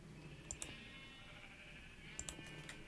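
Two short pairs of blocky sheep bleats from Minecraft sound out over a steady low game-world ambience, one pair near the start and another just past the two-second mark.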